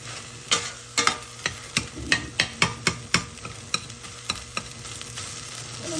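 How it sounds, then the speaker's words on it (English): Saltfish is mashed with a hot pepper in a pot, a series of about fifteen rhythmic knocks and squelches in quick succession, close and clear. "I'm gonna mash it up fine with the saltfish."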